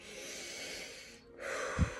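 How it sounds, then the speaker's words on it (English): Deep cleansing breath taken in a relaxation breathing exercise for labour contractions: a long, close airy inhale, a brief pause, then a firmer exhale ending in a soft snort-like puff. "Contraction begins. Cleansing breath."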